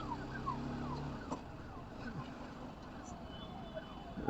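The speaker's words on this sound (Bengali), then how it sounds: "অ্যাম্বুলেন্সটাও আটকে গেছে, যেতে পারছে না এই জ্যামের চোটে।" An ambulance siren wails with rising and falling sweeps, moderately distant, as it sits stuck in a traffic jam on a Kolkata-area road, under a steady rumble of engines and street noise.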